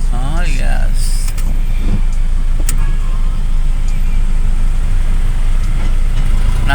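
Heavy morning road traffic in Manggahan, General Trias, Cavite, with cars, trucks and jeepneys: a continuous loud rumble of engines up close, with passing vehicles and occasional higher whirs on top.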